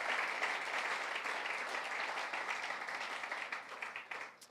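A church congregation claps together in steady applause, dense and moderately loud, then thins out and tapers to a few scattered claps at the end.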